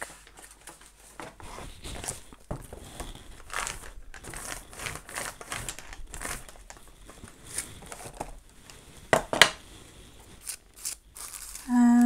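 Tissue paper for a Gelli print collage is picked up and handled, giving close, irregular crinkling and rustling with soft crackles and a louder crumple burst near the end, and no one speaking.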